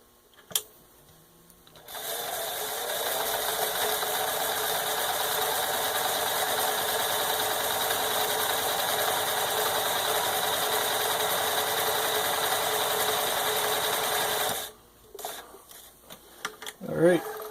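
A serviced Necchi 535FA zig-zag embroidery sewing machine runs a blind stitch, a loud, steady motor whir and needle clatter that lasts about thirteen seconds, with quiet handling noises before and after.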